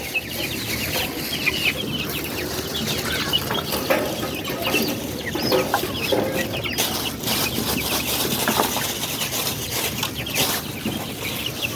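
Chickens, young birds among them, cluck and chatter together while being fed, giving a dense, continuous flock sound with many overlapping calls close by.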